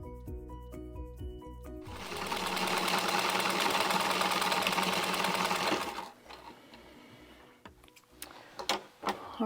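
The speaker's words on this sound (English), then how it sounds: "So I'm going to stitch all the way around the apron, except leaving the bottom of the apron completely open." A sewing machine stitches around the edges of an apron made from old jeans, running in one steady, loud burst of rapid needle clatter before stopping, followed by a few light clicks and handling noises.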